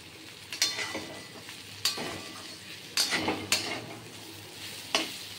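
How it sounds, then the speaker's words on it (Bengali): Sizzling frying of bitter gourd with poppy seeds in a pan with repeated scraping stir strokes, a few sharp clinks of a utensil against the pan at irregular intervals. "এবার শুধু নাড়াচাড়া করব আর ভাজা ভাজা করব"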